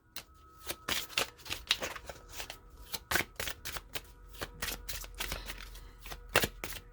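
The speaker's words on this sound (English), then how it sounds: "And as I'm shuffling, I'm looking at the cards in front of me" Oracle cards being shuffled by hand, a quick irregular run of crisp papery riffles and slaps, close and fairly clear, with no speech heard.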